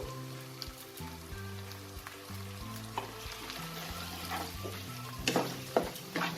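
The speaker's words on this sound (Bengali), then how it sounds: "দিয়ে এই মশলাটাকে আমি কিছুক্ষণ কষিয়ে নেব" Tomato and onion paste masala sautéing in a pan for egg biryani, a steady close sizzle with occasional spoon scrapes and stirring clatter, a few sharper clinks near the end, no voices.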